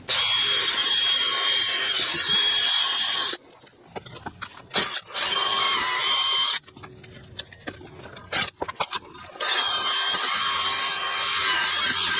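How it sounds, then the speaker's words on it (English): A drill-driven wire wheel scours a Ford Escape's front brake caliper in loud, harsh bursts, stopping and starting, with quieter scraping and handling noises between runs. "So I'm going to use the wire wheel on a drill again with a different wire wheel."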